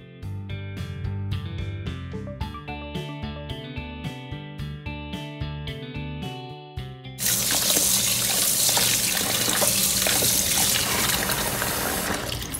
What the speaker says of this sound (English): So now I'm going to rinse it.